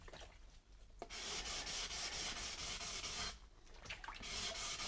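Steady abrasive rubbing of an 800 grit pad worked by hand across fused glass, close and continuous in long strokes with a brief pause near the start and another late in the stretch.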